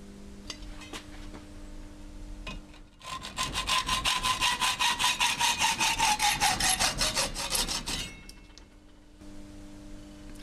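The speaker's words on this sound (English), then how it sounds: "Next, with a hacksaw, I'm going to cut out the trigger and the sear." A hacksaw cuts a speargun trigger and sear, a steady run of rapid back-and-forth rasping strokes close up and loud for about five seconds, with quieter scraping and handling noises before and after.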